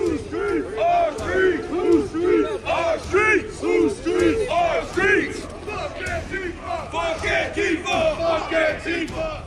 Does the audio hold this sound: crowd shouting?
yes